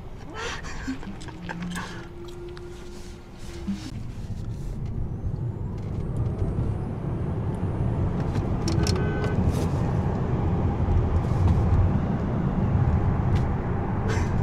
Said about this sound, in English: The car is going to turn around.